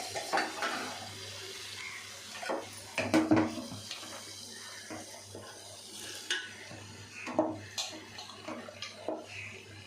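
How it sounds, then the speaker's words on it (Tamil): Chicken being stirred in a pot for biryani, with wet scraping and clattering strokes of a spoon against the pot over a soft sizzle, coming in irregular bursts close by. "கறியை கொஞ்சம் நல்லா கிளறி விட்டுக்குவோம்"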